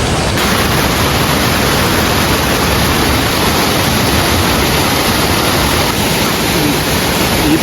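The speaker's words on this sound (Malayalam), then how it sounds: "വലിയ വെള്ളച്ചാട്ടമാണ്" A large waterfall on a river roars close by in a steady, dense wash of rushing water that holds at the same level the whole time, with no voices.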